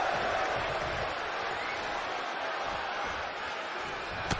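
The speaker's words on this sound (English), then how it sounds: "By the sound of this crowd, it seems almost as if all of Broward County has somehow jammed themselves into this arena." Arena crowd in the WWE 2K20 wrestling video game, a dense, steady roar of cheering spectators that stays constant and fairly loud throughout, with no speech over it.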